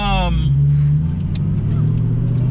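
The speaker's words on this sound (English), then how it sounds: "I can relax a little bit driving this car." A Ford Mustang rolls along the road with a steady low engine drone and tyre rumble from inside the cabin, while someone talks over it throughout.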